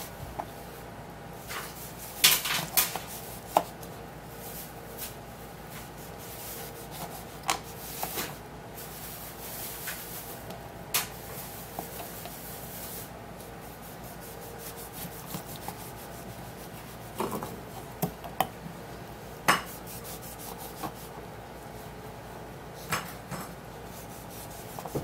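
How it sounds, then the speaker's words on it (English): A knife cuts an ingredient for tea on a board, giving quiet rubbing and scraping with scattered sharp taps and chops at an irregular pace. It is close and faint, with no voices. "We're going to be making a tea out of this, so we are going to be cutting it"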